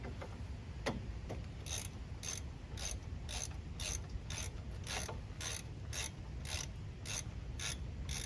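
Ratchet clicking steadily while brake caliper bolts are loosened on a 2001 Dodge Ram V8 4x4, about a dozen crisp, evenly spaced clicks close up over a low garage hum, with no talking.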